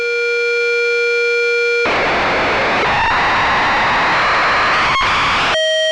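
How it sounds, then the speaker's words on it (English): A steady electronic tone gives way to a loud burst of dense, harsh chaotic noise from a Lorenz attractor synth module, churning for several seconds, then cuts back to a tone. "Some really nice chaotic noise at most settings."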